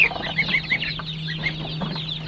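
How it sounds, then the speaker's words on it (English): A flock of chickens, young chicks mixed with older laying hens and a rooster, clucks and chirps close by in repeated short calls over a steady low hum. "We even got a mean rooster in here"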